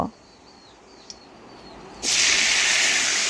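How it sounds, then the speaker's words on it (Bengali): Drained boiled potatoes tipped into a hot wok of oil burst into a loud, steady sizzle after a quiet stretch, the hiss continuing to the end. "আমি জল ঝরিয়ে সেদ্ধ আলু যে তুলে রেখেছিলাম সেই আলুগুলো এখন কড়ার মধ্যে ঢেলে দেব"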